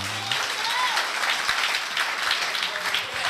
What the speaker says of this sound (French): Applaudis Jésus, applaudis le Seigneur